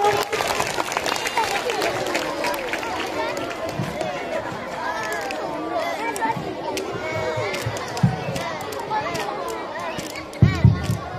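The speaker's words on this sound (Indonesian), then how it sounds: "Tepuk tangan dong untuk abang-abangnya." A crowd of schoolchildren at an Aceh Besar school event claps for several young men in a long, dense burst of applause mixed with loud chatter and children's voices, with a few sharper thumps near the end.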